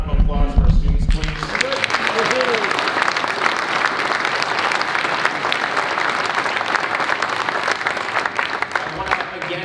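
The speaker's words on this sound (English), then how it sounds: "Let's have a round of applause for our students" A large crowd at a congressional district debate bursts into sustained, loud applause for students that continues steadily throughout, with a few voices audible at the start.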